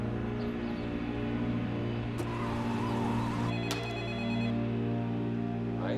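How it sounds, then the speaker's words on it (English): A telephone rings with an incoming call, a repeated electronic ringtone tone pattern sounding over a steady low hum, fairly loud and without talk. "Another call comes in."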